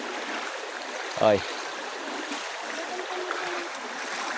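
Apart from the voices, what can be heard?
river water flowing during cleaning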